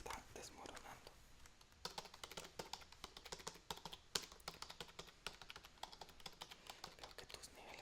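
Rapid typing on a computer keyboard, close and crisp, with irregular bursts of clicking keys running throughout at a steady moderate level, no voices.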